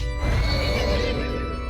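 A horse neighs in a long, loud whinny close up, used as a demonic horse sound effect in a Curse of Strahd tabletop podcast, heard alone without speech.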